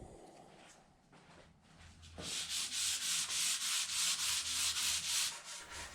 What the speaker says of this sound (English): Sand her down with some 220.